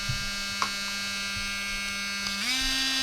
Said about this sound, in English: I have already placed one on the rotary tool. I'm gonna try to cut the metal